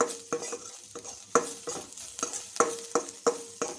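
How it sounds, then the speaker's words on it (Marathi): Ginger, garlic and raisins are stirred in a hot pan for apple chutney, with a soft sizzle under a repeated rhythm of spoon scrapes roughly every third of a second, close by. "अद्रक लसूण आणि किशमिश छान असं एक मिनिटापर्यंत छान असं फिरवत राहा"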